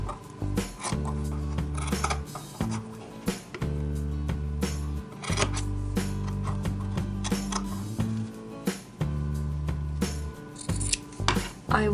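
Scissors snip through stretchy fabric for a Ken doll's palm-print summer T-shirt, close repeated crisp metallic cuts in irregular bursts, with no talk.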